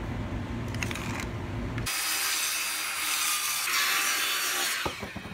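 A saw cuts through wooden boards with a harsh rasping sound, first a lower grinding pass, then a brighter, steady buzzing cut, ending in a few clicks.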